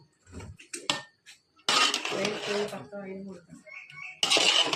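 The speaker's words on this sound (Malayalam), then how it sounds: "നമ്മുടെ കുഴിമന്തി ഇങ്ങനെ നമ്മൾ ഇളക്കി കഴിയുമ്പോഴാണ് ഇതിൻ്റെ ഇൻഗ്രീഡിയൻസ് എല്ലാം മിക്സ് ആവുള്ളൂ" A spoon scrapes and clatters through kuzhimanthi rice in a metal pot in two loud bursts, with a person talking between them.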